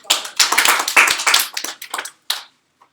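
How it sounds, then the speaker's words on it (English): A small group of staff claps in a goals-and-accountability session: close, crisp handclaps in an uneven burst that thins out to a couple of final claps and then silence. "Let's give them a round of applause."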